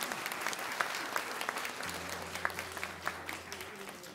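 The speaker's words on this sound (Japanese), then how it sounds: "拍手をお願いします。" Applause at a small live concert, fairly quiet and sparse, with individual claps standing out irregularly over a soft crowd bed and a low electrical hum.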